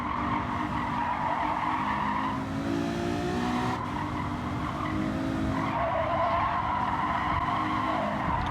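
In the racing video game Gran Turismo 7, race car tires skid and squeal continuously and loudly over a steady engine drone, with no talk.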